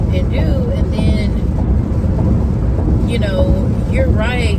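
Rain pours steadily as heard from inside a car, a loud, dense rumbling wash with deep low end that continues without letup while a voice talks over it.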